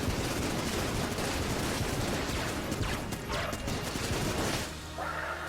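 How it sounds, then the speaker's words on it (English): Rapid volley of commando rockets fired from a gun in the game Enter the Gungeon, loud dense bursts of gunfire and explosions filling nearly the whole stretch before cutting off near the end. "I have to like tap shoot the gun just to fire out the commando rockets."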